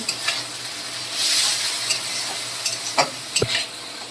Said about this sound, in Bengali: এবার দিয়ে দেবো জিরে বাটা এই মশলাগুলো দিয়ে আমি ভালো করে কষিয়ে নেব